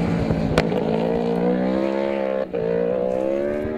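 A high-revving inline-four motorcycle engine wails at steady pitch, rising slightly, loud and continuous with no talking.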